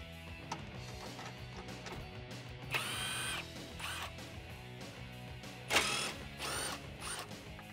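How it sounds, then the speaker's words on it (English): A 10 mm socket ratchet works loose the top grille bolts on a Toyota Tacoma, with quiet clicking broken by two brief, sharper mechanical bursts in a fairly hushed space. "Grab a 10 millimeter socket and remove the two bolts out of the top of the grill."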